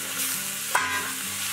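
Eggplant hits a hot wok already holding pork and bean paste, sizzling steadily while being stirred, with a short scraping toss near the middle; close and moderately quiet, no talking.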